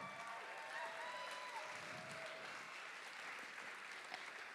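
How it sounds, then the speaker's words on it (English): Audience applause and clapping fill a stage event during a storytelling night in Baltimore, a steady, dense wash of hands from a crowd that holds at a constant level throughout. "Keep clapping"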